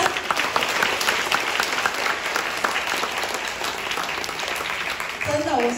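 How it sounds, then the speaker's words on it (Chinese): An audience claps in sustained, dense applause that holds steady for several seconds, with a brief voice near the end. "要不要给他一个掌声？"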